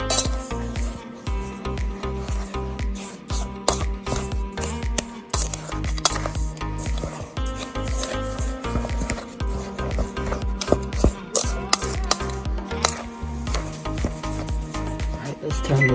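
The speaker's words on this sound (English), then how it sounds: "we're gonna stir to combine this" A pumpkin pie mixture is stirred in a bowl, giving a continuous scraping, rubbing rasp with a steady rhythmic texture, close and fairly loud under a background hum.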